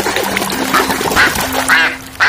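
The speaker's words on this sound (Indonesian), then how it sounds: "lihat di sini kita nemu hewan bebek" A duck quacking several times in quick succession, loud and close, with short nasal calls spaced irregularly over a faint steady hum.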